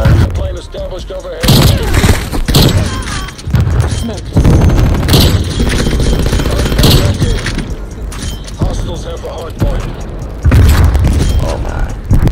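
Heavy gunfire and booming blasts erupt in bursts during a Black Ops Cold War match, loud and repeated, with a voice shouting over the shooting.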